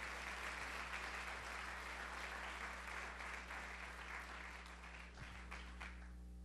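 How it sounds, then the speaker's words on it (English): Steady applause from an audience at a high school event fills the room, sustained clapping that tapers off near the end over a low hum. "let's give them a big round of applause too"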